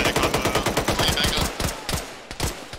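Rapid automatic gunfire in a military video game, a fast string of sharp, evenly spaced shots that are loud and close, thinning into a few scattered reports near the end.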